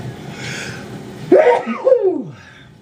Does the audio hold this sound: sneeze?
yes